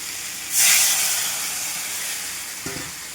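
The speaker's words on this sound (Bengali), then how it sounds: "মাছগুলো দিয়ে দিয়েছি, এবার জল দিয়ে দেবো।" Water poured into a pan of fried cauliflower and fish sets off a sudden loud burst of hissing steam that slowly fades into a steady sizzle, with a brief clatter near the end.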